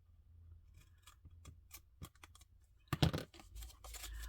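Scissors trimming narrow paper envelopes meant for film negatives: a run of crisp, irregular snips close by, with a louder burst of cutting and paper rustle partway through. No one speaks.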